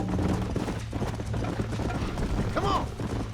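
Horse hooves clip-clopping in Red Dead Redemption, a steady galloping rhythm under busy game ambience and music, with a brief whinny-like sweep near the end.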